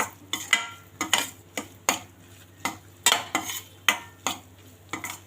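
Edible gum fries in ghee over a low-to-medium flame while a spoon clinks and scrapes against the pan in a quick, regular rhythm over a soft, faint sizzle.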